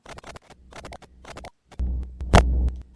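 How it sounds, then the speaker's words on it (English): Crackling bursts of radio static give way to a low, buzzing electrical hum with noisy interference. "the radio was making that same strange static noise"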